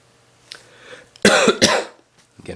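A man coughs several times in quick, harsh bursts close to the microphone, after a few softer throat noises.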